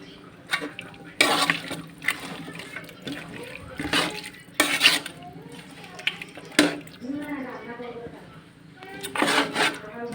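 Braised duck meat with potatoes and spices is stirred and turned in a cooking pot, giving scattered scraping and clattering bursts with some wet, watery sizzle, under and between a woman's speech.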